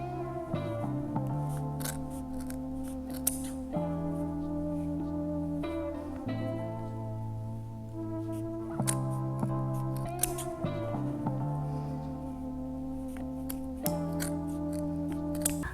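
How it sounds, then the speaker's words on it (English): Pants fabric is cut open at the seam during a waistband alteration, with crisp, repeated snipping transients heard faintly over steady background music. "I'm going to cut now what I need so I can sew it back together."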